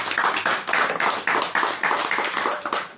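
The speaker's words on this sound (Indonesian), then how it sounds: "Tepuk tangan ya." An audience claps at a religious talk, a dense burst of hand claps lasting about three seconds with a loose, uneven rhythm, fairly close and with no talk over it.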